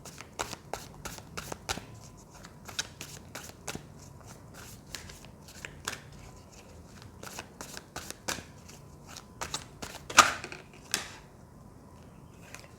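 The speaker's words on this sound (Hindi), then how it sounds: "जब तक मैं कार्ड शफल कर रही हूँ" Tarot cards are shuffled by hand in quick, crisp bursts of riffling and flicking, with short pauses between runs and one louder slap near the end, close and clear with no voices.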